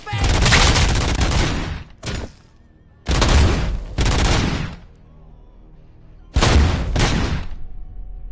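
Gunfire in the Robocop video game crackles in three loud, dense bursts separated by short quiet gaps, each burst a rapid sustained volley with heavy low thuds underneath.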